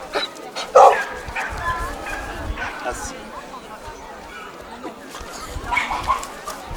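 A dog at a dog show event gives a short, sharp bark and a few yips amid a crowd's chatter and someone talking in French, with a busy outdoor murmur throughout.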